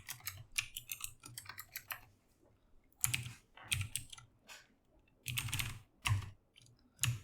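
Notes are typed on a computer keyboard in bursts of rapid, close keystrokes separated by brief pauses, loud and crisp with no talking.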